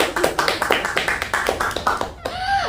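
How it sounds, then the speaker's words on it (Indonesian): Rhythmic audience clapping at a law discussion event, about a dozen sharp, evenly spaced claps close and loud, ending abruptly before a short tonal sound. "Tepuk tangan."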